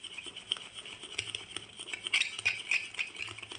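A spoon clinks and scrapes steadily against the inside of a cup while coffee and sugar are stirred together, a quick rhythmic tinkling heard close and fairly quiet.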